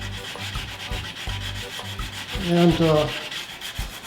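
A wooden stair spindle is sanded by hand for painting, giving soft, rhythmic rubbing strokes close by, with a faint voice partway through.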